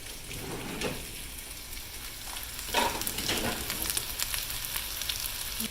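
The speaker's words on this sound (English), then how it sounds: "I'm going to put it back here on the stack eye and let it start simmering for supper tonight" Swiss steak with vegetables bubbles in a braiser on a stovetop burner, a soft continuous crackling simmer with a few brief louder clatters and stirring sounds, no voices.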